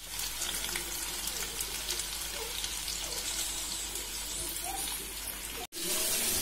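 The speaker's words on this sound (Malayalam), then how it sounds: "അപ്പൊ അങ്ങനെ മീനൊക്കെ നല്ല ഫ്രൈയായി വന്നിട്ടുണ്ട്." Tilapia pieces frying in a pan, a steady crackling sizzle with a constant hiss, ending with a short handling clunk.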